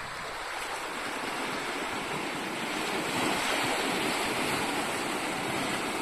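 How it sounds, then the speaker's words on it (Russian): Small ocean waves wash steadily onto the beach at Yugawara, Japan, on a July day, a continuous broad surf roar with some wind buffeting the microphone. "Волны небольшие сегодня."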